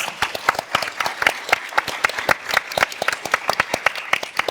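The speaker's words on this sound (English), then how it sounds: "A big round of applause for yourselves." A conference audience at a creative-business summit panel claps for itself: a dense, steady round of many hands applauding together for several seconds, fairly close and loud, with no voices standing out above it.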